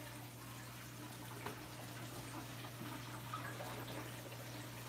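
Water runs steadily into a saltwater aquarium during a water change, a soft continuous splashing pour at low level over a constant electrical hum, with a few faint knocks.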